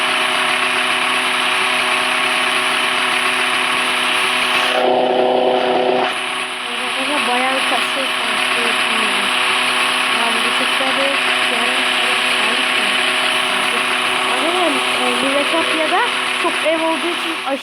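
A Roblox video game motorcycle engine drones steadily at idle throughout, loud and even, while a person talks over it at times.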